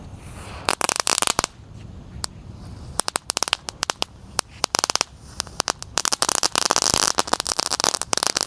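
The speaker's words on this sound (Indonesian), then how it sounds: "Seperti itu reaksinya mercon telur jino pretek" A mercon telur egg firecracker goes off in a rapid, crackling burst of many sharp pops and snaps, loud and close, spraying irregular bursts that thicken toward the end.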